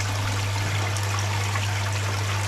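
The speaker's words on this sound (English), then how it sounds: "You can see the water filling up there, the media is rising." Water pours steadily into the drum filter chamber of a garden koi pond, a constant trickling rush over a low, continuous pump hum.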